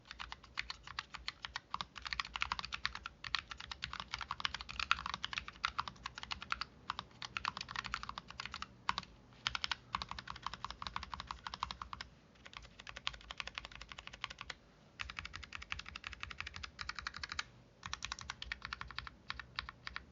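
Rapid, steady typing on a FNATIC Streak65 low-profile mechanical keyboard, dense light clacks in quick bursts with brief pauses, close and clean with no voices.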